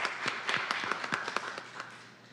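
Scattered hand clapping from a small group at a city committee meeting, a few dozen distinct claps at moderate distance that thin out and fade toward the end.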